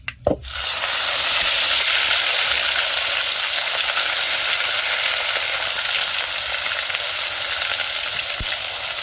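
Asafoetida and prepared masala hit hot oil on a wood-fired stove, a sudden loud sizzle that settles into a steady close frying hiss, with a brief stir near the end, no talk.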